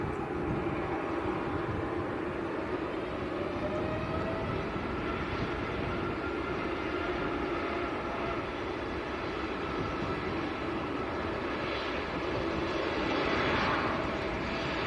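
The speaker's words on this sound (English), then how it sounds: "So there goes your aircraft in safe and well." Aircraft landing at Manchester Airport, a steady distant engine rumble with a smooth broad roar, rising slightly toward the end, no talk.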